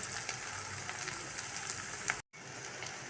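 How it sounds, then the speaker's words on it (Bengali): Onions and spices fry in oil for chicken curry, a continuous close sizzle and crackle that briefly cuts out near the end before resuming. "দেখো অলরেডি ছাড়তে শুরু করেছে, আর পেঁয়াজটাও খুব ভালো মতো ভাজা হয়ে গেছে।"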